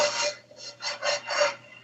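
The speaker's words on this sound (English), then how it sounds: "Scrape it around with a wooden spoon." A wooden spoon scrapes around a frying pan to loosen juices after water is added while making stew, in four or five close, rhythmic rasping strokes that end with a sharp knock.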